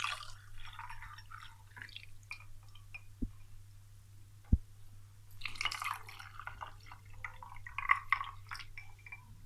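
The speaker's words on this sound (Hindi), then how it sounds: "इसमें पानी डालेंगे।" Water is poured into a glass of tamarind and plum sharbat with ice, first a few scattered drips and taps, then a steadier splashing, gurgling pour in the second half, fairly quiet and close with no talk.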